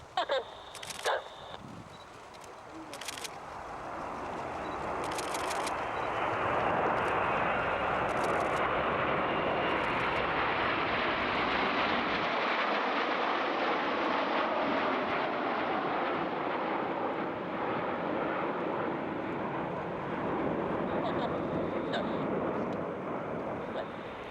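Airbus A400 military transport aircraft rolling at an air show, its turboprop engines building from a few sharp clicks into a broad, steady roar that holds loud and even, with a deep rumble dropping away partway through.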